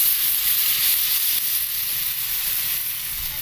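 Maize batter for makki ki roti sizzling on a hot oiled tawa, a steady bright hiss of frying that holds evenly throughout, alone and close.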